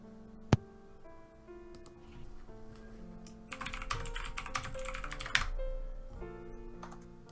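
Computer keyboard typing during a late-night online group chat, a steady run of soft clicking keystrokes with one sharp tap near the start and a denser burst midway, heard over low background music.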